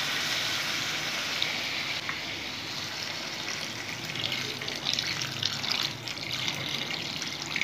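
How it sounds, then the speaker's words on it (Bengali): Water streams steadily into a pan for an Aar fish curry gravy, a continuous soft gushing and splashing pour that is heard alone at low volume. "গ্রেভির জন্য জল দেবো"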